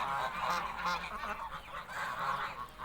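Domestic geese honking while they eat feed on a farm, a dense overlapping chorus of nasal honks from several birds, close and steady throughout.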